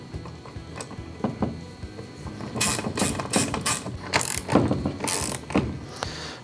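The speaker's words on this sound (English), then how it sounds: "I'll drive the bolt back in using a 9/16 wrench" A 9/16 wrench tightens a bolt on a Hobie Mirage Passport 10.5 kayak. The metallic ratcheting comes in bursts of rapid clicks, close and fairly loud, with short pauses between strokes.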